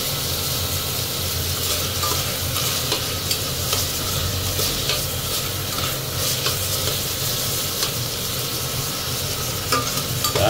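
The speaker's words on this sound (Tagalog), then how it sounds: "Halo-halo na natin yan. Hintayin natin lumambot yung ating ricado." Aromatics with tomato for sardines with sotanghon sauté in a pan, a close, steady sizzle with rhythmic scraping and stirring strokes of a spoon against the pan, no talking.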